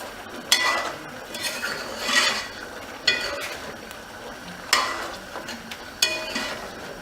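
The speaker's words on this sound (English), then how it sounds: "I'm going to stir it up." A spoon stirs Trinidad-style chicken stew with minced cilantro, garlic and pepper in a pot, giving regular scraping strokes about every second or so over a low simmering hiss, close and alone.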